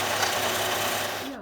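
A sewing machine runs at a steady fast stitch for about a second and a half, joining the folded ends of a fabric strap for a beach bag, loud and close, then stops abruptly.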